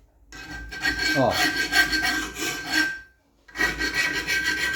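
Hand file rasping across a steel dagger blade, close and loud, long continuous scraping strokes with a brief pause before another stroke begins; a word is spoken briefly.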